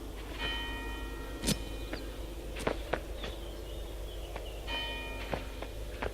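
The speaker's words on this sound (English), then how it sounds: "And I hit the bell." A bell struck in the video game Human Fall Flat gives two clear ringing strikes, each with a sustained metallic tone that fades slowly, over faint background sound with sharp knocks between them.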